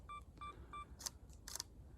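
A camera's 5-second self-timer beeps three times in an even rhythm, the tones clear and close, followed by two louder clicks from the shutter firing, all outdoors in a foggy landscape with no voices.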